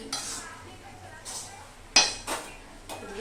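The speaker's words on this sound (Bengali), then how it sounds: "এদিকে ভাজছি আর এদিকে ওলটাচ্ছি" Vegetables such as carrot, beetroot, radish, potato, aubergine and beans are stirred in a kadai, giving several sharp metal scrapes and clinks over a faint background hiss and distant voices.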